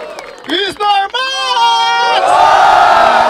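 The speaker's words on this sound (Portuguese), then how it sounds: "Barulho para cima de Mike" A crowd at a Brazilian rap battle in Barueri whoops and shouts in short bursts, then rises into a loud sustained cheer and roar at close range.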